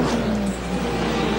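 Lotus Formula 1 race car driven by Ayrton Senna in 1985, a steady engine note roaring at a fairly constant pitch, loud and continuous with crowd-like noise around it.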